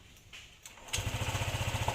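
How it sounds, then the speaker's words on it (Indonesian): Honda PCX fuel-injected scooter engine starting up after a moment of quiet, then idling with a steady, pulsing putter close by. "Kita tes posisi mesin bunyi."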